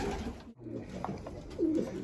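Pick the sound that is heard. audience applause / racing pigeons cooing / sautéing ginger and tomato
racing pigeons cooing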